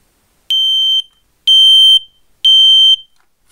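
A smoke alarm with separate hush and test buttons, set off by its test button, gives three loud piercing beeps, each about half a second long, evenly spaced roughly one second apart and close by.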